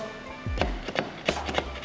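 A restored Toyota Landcruiser 40 Series door being locked and worked by hand: a handful of sharp metallic clicks and clunks close by, spaced unevenly over a second or so against a quiet background.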